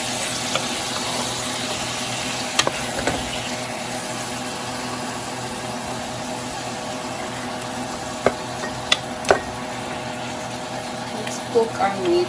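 Chicken and pork fry in a pan after golden garlic, giving a low, steady sizzle with a few sharp clinks of stirring, while a person talks intermittently.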